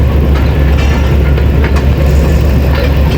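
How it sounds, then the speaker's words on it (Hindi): A Green Line passenger train runs past a Pakistani station, a loud, close, continuous rumble of wheels and carriages with a deep low roar throughout. "सामने से आ रही है पाकिस्तान की most premium train 6 town green line."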